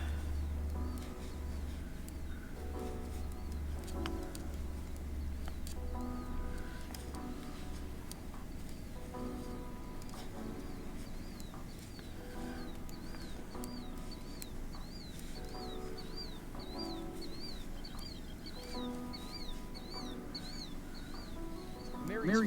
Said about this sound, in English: Just listening to the bird sounds